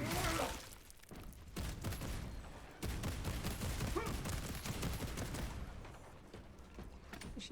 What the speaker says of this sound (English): this is the classic weapon of the Space Marine, the bolter